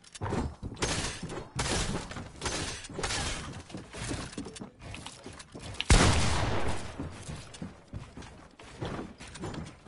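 Video game gunfire with bullets flying, dense crackling bursts and shattering impacts arriving in uneven clusters, loud and close, with one heavy blast partway through and no talk.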